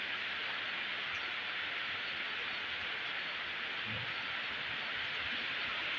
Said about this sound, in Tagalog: Lakas po ng ulan dito sa amin ngayon.